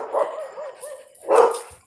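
Small dogs barking on a morning walk in the Philippines, a few sharp barks and yips in two clustered bursts, fairly close and loud, with no talk over them.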